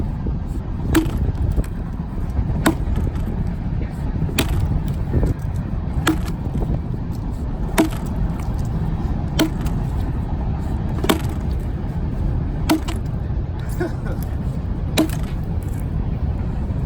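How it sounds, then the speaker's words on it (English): An axe strikes wood about once every second or two during log cabin work, each blow a sharp, cracking thud over a low outdoor rumble. "I use this for splitting firewood"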